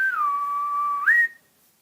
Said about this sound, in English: that was a little whistle sound like that